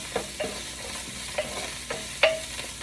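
Food sautés in a pan at home, a steady moderate sizzle punctuated by four or five light utensil clinks and scrapes against the pan, with no speech.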